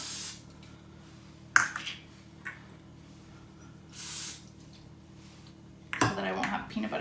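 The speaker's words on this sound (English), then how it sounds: "use this pan spray to spray your spatula or your spoon and your measuring cup" Pan spray hisses from an aerosol can onto a measuring cup and spoon over a mixing bowl in a home kitchen, several short bursts separated by quiet moments, with a clink of utensils near the end.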